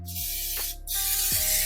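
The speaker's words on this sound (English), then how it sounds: "I'm gonna line this with some spray." A close hiss of aerosol cooking spray coating a pan in two quick bursts with a short pause between, sharp and airy, no talking.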